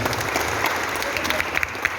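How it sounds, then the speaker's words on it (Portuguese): A church congregation claps together in a full, dense burst of applause during a sermon, loud and close, sustained evenly throughout with scattered sharper claps standing out. "Aplauda o Senhor, pode se assentar."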